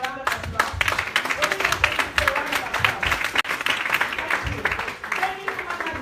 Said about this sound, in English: It's okay to give a round of applause.